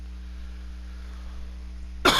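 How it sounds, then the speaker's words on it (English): A single short, sharp cough bursts out at the very end after a near-silent stretch with a low steady hum. "I'm a skeleton that coughs"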